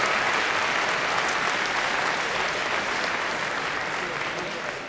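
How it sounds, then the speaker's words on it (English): A large Liberal Party of Canada convention crowd applauds Suzanne, a dense, steady roar of clapping filling the hall and fading slightly at the end. "A warm round of applause for Suzanne."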